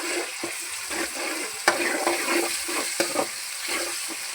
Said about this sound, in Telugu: ఉల్లిగడ్డ, పచ్చిమిర్చి వేగిన తర్వాత కొంచెం అల్లం పేస్ట్ వేసుకోవాలి.